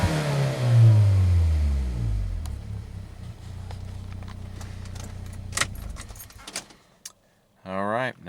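The engine of a 2006 Saab 9-3 revs up and falls away close by, followed by a steady idle with clinks and rattles, then a short spell of quiet and a brief burst of speech at the end.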